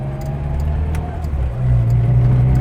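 A Datsun Cherry from the 1980s rolling along at cruising speed, its engine a steady low drone that swells slightly toward the end, heard from inside the car with faint rattles.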